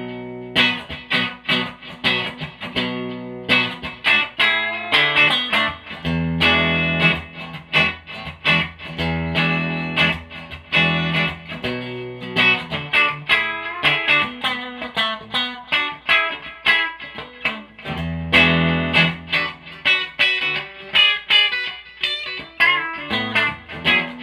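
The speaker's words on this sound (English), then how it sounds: "Let's start with some clean tones with the bridge." An electric guitar on its bridge pickup plays a clean, bright passage of plucked notes and chords, steady and unbroken, with no talking.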